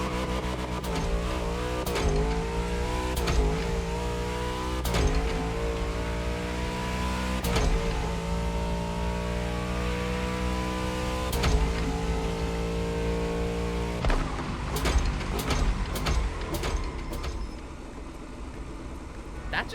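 Engine-swapped car in the racing video game The Crew Motorfest, revving up through gears with repeated sharp clunky gear shifts, loud and continuous, with talking over parts of it.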